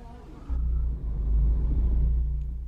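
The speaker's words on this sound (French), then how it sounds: "L'attente d'une voiture qui part." A car pulls out of a parking lot as a low engine rumble that swells and holds, close and steady, with no speech.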